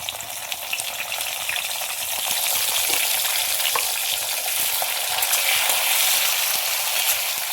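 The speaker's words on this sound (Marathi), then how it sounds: "आपल्याला कांदा छान सोनेरी कलर येईपर्यंत परतून घ्यायचा आहे" Chopped onion sautéing in a pan for veg biryani gives a steady, close sizzle that swells slightly midway and holds at an even level throughout, with no talking.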